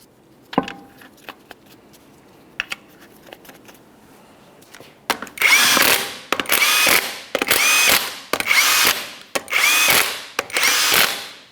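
Power tool spins 21mm lug nuts onto a 2004-2008 Ford F-150 front wheel in six loud, close bursts of about a second each, with faint clicks and handling noise before them.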